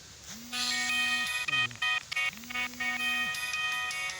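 A mobile phone rings with an incoming call at a historic mosque in Manisa: a melodic electronic ringtone of bright repeating tones and rising glides, fairly close and clear.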